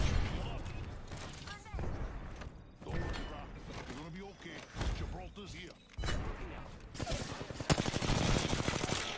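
Automatic gunfire in the Apex Legends video game rattles in repeated rapid bursts, loud and close, broken by mechanical clicks and whooshes, with someone talking between and over the shots.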